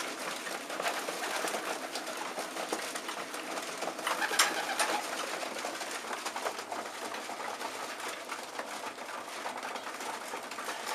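Homing pigeons coo softly in a loft, a continuous murmur of several birds at moderate distance over a steady background hiss.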